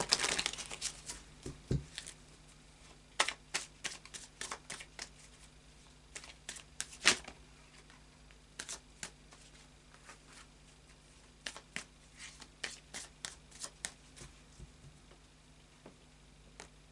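Tarot cards being shuffled by hand, repeated soft riffling and papery snaps in irregular bursts, close and fairly quiet with no talking.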